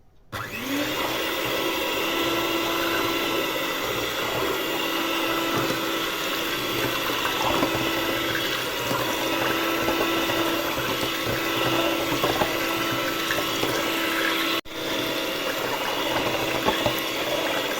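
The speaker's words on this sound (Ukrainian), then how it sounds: "тепер ми його все збиваємо до однорідної маси" A blender whirs steadily as it blends milk poured from a jar until smooth, a loud continuous motor drone with a brief cut near the end before resuming.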